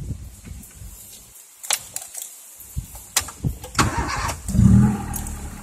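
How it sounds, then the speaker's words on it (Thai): A few sharp clicks, then a manual-transmission sedan's engine, in neutral, cranks and catches, rising into a brief rumbling idle nearby. "ทีนี้เข้าเกียร์ว่างไว้แล้วนะครับสตาร์ทรถครับ"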